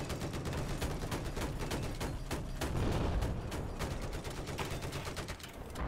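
Rapid bursts of video-game gunfire rattle almost nonstop in close, loud volleys, with heavier thumps mixed in.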